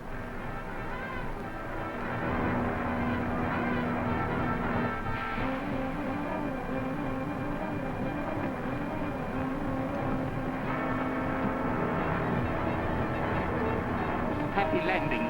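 An airplane engine drones steadily in flight, a loud, continuous throbbing hum that runs unbroken for the whole stretch without fading.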